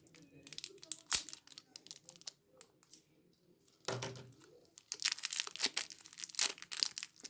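Plastic ration packaging being cut open and handled, from a French Army RCIR combat ration menu, giving close crinkling and rustling with sharp snips and tearing bursts, busiest toward the end.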